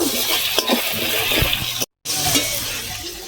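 Tomato, ginger and spice masala stir-frying in hot oil for Bengali cabbage dhoka, a steady loud sizzle with scraping stirs and a brief clink, cut by a short silent gap.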